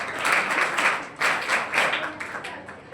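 A school audience claps loudly for a top-scoring student at a 12th board merit award ceremony, a dense wash of applause swelling and dipping in waves for three seconds.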